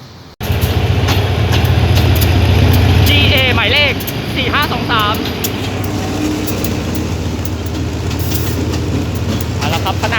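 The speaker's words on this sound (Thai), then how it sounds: "นี้ขบวนรถธรรมดา ที่ 262 กำลังจะออกจากสถานีรถไฟชุมทางบางซื่อแล้วนะครับ" Ordinary train no. 262 from Hua Hin pulls out of Bang Sue Junction station, a loud, close engine rumble and rolling clatter with a sharp squeal of wheels or brakes partway through, while a person talks over it.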